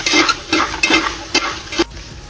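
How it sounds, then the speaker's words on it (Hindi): Chicken frying in a yogurt mixture in a pot for a Karachi-style chicken yakhni pulao, with a steady close sizzle broken by about six sharp stirring scrapes at a quick, uneven rhythm. "और चिकन को फ्राई करेंगे थोड़ी देर इसके अंदर"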